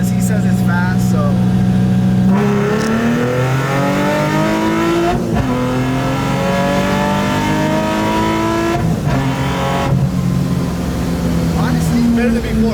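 A supercharged Infiniti G35 pulls hard in second gear, the engine and supercharger whine climbing steadily in pitch, loud and close from inside the car, with a brief gear-related dip midway and people talking underneath.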